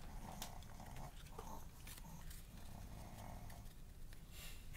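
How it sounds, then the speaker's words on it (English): Faint, low dog growls and snorting noises come from a dog in the background of a quiet house, rough and continuous over a few seconds. "He's a noisy dog. That's what he does."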